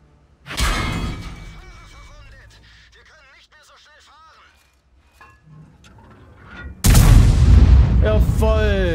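Heavy tank cannon in World of Tanks, ISU-152 on the Malinovka map, fires loud booming shots, one near the start and another late, with a gunfire crack and ringing tail; game radio chatter sits in between.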